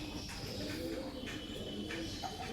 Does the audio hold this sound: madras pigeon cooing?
yes